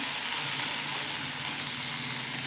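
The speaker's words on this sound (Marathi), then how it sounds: "आता आपण दुसरी बाजू बघा अशी पण भाजून घेऊयात, थोडे उभे ठेवून" Paneer thecha kebabs roast in a pan, giving a loud, dense, continuous sizzle close by with no pauses.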